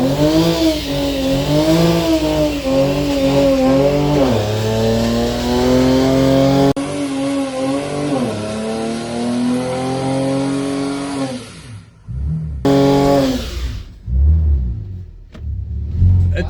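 A car engine revs hard while a single driven tyre spins and peels, a loud continuous rising-and-falling roar that holds for several seconds, then cuts out and bursts again in short revs near the end.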